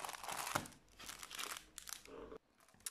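Plastic wrapping crinkles and tears as a small package is opened up close, in irregular rustling bursts separated by brief pauses, with no talking.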